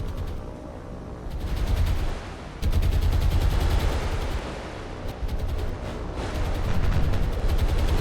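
Aircraft strafing gunfire in the War on the Sea naval game, with dense, continuous bursts of shots over a heavy low rumble of explosions and fire, loud and close throughout.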